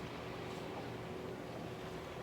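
A steady motorboat engine drones at a distance, a low continuous rumble with faint water and wind noise around it.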